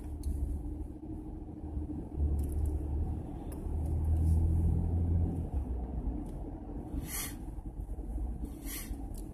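A car on the town's narrow streets, its engine rumbling low and steady while driving, with a swell around the middle and faint higher noises passing over the top.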